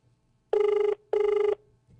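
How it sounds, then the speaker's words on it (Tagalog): A cellphone rings loudly and close by, sounding two steady electronic rings with a short gap between them, and no voices are heard. "Nag-ring tabi ang sayang cellphone."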